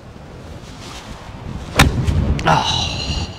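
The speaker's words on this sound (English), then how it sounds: "the wind is strong into me" Strong 25 mph wind blows across an open golf course, a steady low buffeting rumble that runs throughout, broken by a sharp nearby thud with a brief ringing tail after it.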